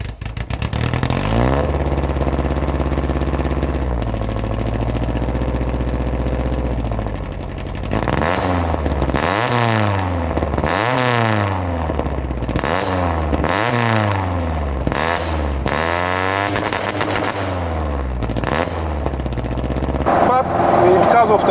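Opel Corsa B GSI with a swapped C20XE engine, individual throttle bodies and large camshafts: it idles steadily, then revs up and down in repeated sharp blips, loud and close, with voices talking throughout.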